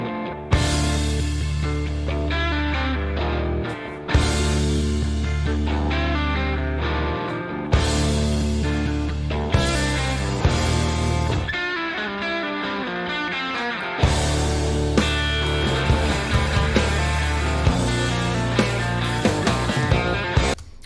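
A rock song plays loud and full, with driving distorted guitars, bass and drums in a continuous garage-style jam, brief dropouts between sections and no talk over the music.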